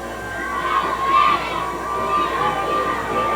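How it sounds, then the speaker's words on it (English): Youth cheerleaders at a strawberry festival parade cheer and shout together in a sustained, excited crowd roar, with high children's voices over a steady outdoor din. "That sheer excitement you heard was actually the Marysville Youth Cheerleading."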